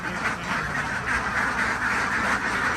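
Egg-laying ducks, males among them, being delivered at a farm in Sikhio, Nakhon Ratchasima, quack continuously in a loud, close chorus with overlapping calls and no pause.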